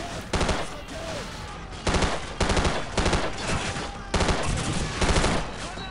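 Repeated bursts of automatic gunfire in Call of Duty 4: Modern Warfare, loud and close, come in several clusters of rapid shots with brief gaps between them, and faint game sounds fill the pauses.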